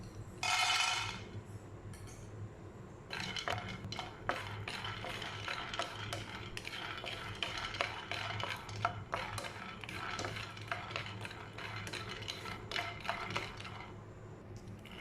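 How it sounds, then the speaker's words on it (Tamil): Raw peanuts roast in a dry pan, stirred so they rattle and click against the metal in quick, uneven bursts at fairly low volume. "இப்போது அடுத்ததாக நம்ம நிலக்கடலையை போட்டு வறுத்தரலாம்."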